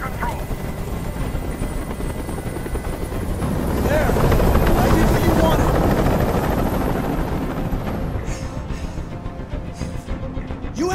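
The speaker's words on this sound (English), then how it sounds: "Tell that helicopter to get out of here." A helicopter hovers overhead in the Detroit: Become Human video game, its rotor thudding in a dense, loud, continuous roar that swells in the middle and eases toward the end.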